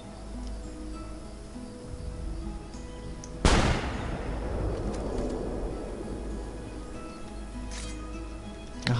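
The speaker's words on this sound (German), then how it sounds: "Stellt euch vor, eine Kanone aus der Hand abzufeuern." A hand cannon fires in Assassin's Creed: Brotherhood: a single loud cannon-like blast booms once and decays into a long rumbling tail over a steady background hum.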